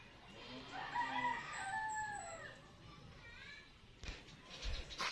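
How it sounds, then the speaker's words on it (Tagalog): A rooster crows clearly nearby in a garden, with other birds chirping in the background, followed by some rustling and handling noise. "marami po kayo maririnig na ibon kasi dahil sa talagang kubkub na po itong place ko"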